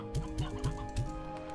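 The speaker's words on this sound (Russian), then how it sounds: "О, курочка. Курятник, кстати." Chickens clucking in the video game Slime Rancher 2, four short rhythmic clucks at an even pace over a steady background of game music.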